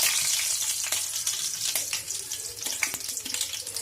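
Curry leaves and fenugreek seeds fry in hot oil for a Tamil fish curry, making a bright, continuous crackling sizzle with scattered sharper pops, close and fairly loud.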